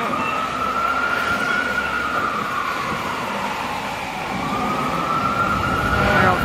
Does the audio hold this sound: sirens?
yes